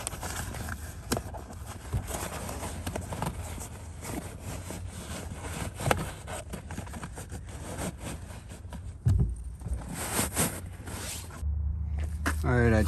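Carhartt custom-fit seat cover fabric being tucked into the plastic trim of a 2024 Chevy Silverado, with close rustling, scraping fabric and plastic sounds throughout and a few sharper clicks and thumps.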